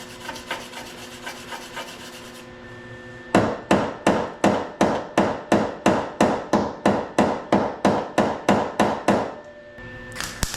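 After a quieter stretch of light tapping, a steady run of about eighteen evenly spaced hammer strikes on a welded metal rocker panel of a crashed Porsche Boxster, close and loud. No speech.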